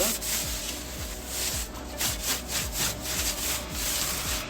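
Rhythmic back-and-forth sanding on a bamboo chair, steady close rasping strokes taking off dust and fine roughness before painting, repeated evenly without talk.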